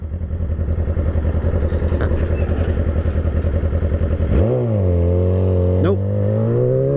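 A car revs and accelerates hard on a street, a loud throbbing engine note that rises steeply in pitch as it pulls away close by, with a second upward sweep near the end.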